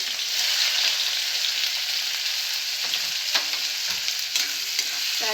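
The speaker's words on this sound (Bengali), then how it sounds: "পেঁয়াজগুলোকে আমি তেলের মধ্যে দিয়ে দিচ্ছি।" Chopped onions fry in hot oil in a wok, a loud, steady sizzle close by, broken by repeated scraping strokes of a spatula as they are stirred; no voices.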